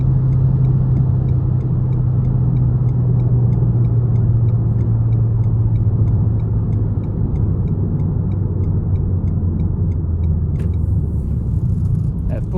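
A 2019 Renault Megane 1.3 TCe with an EDC gearbox cruises on a road, heard from inside the cabin. A loud, steady engine and tyre rumble slowly drops in pitch, with road noise throughout and no talking.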